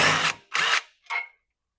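A power tool, likely an impact driver, backs out bolts on a 2025 Kawasaki KRX 1000 UTV, three short close bursts with brief pauses between, the last one lighter and higher.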